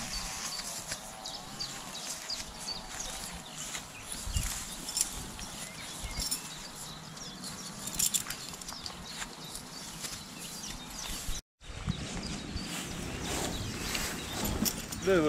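Horse hooves clip-clop steadily along, close by, with faint voices now and then in the background.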